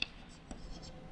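Pen or pencil scratching on paper during a Class 10 maths lesson on polynomials, a short quiet burst of faint writing strokes close by.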